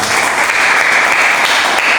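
Dense, loud applause from a room of teachers at a school training session on positive school culture, a continuous wash of many hands clapping together without pause and no voices over it.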